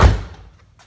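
A Mazda Miata door shutting with one solid thump, close and loud, decaying quickly into quiet.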